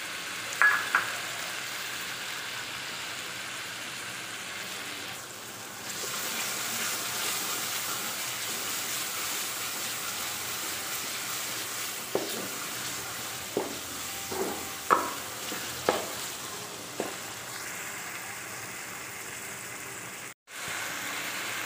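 Onions and tomatoes fry in a pan for an Indian egg and potato curry, a steady soft sizzle with several sharp clicks of a spoon stirring against the pan midway through. No one speaks.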